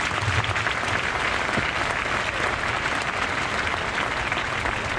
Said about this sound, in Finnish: Vielä pienet aplodit tässä vaiheessa.